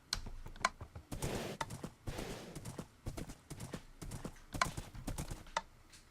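Horse hooves clip-clopping across blocks in Minecraft, a quick rhythmic run of clattering steps with short gaps, fairly loud and close.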